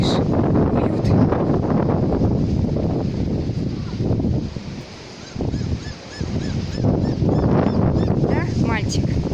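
Strong wind buffets the microphone on a beach at Lazurnoye, a dense, loud roar that dips briefly midway, with faint goose-like honks and distant voices mixed in.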